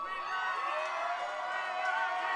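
A fight-night crowd at a junior Thai boxing event cheers steadily for young fighter Miya Milton, a dense, continuous roar of voices and whoops sustained throughout without a break.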